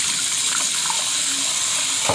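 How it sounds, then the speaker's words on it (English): Tap water pours steadily into a small hamster bath container, a loud, continuous close-up splashing gush throughout. "You just put water in here."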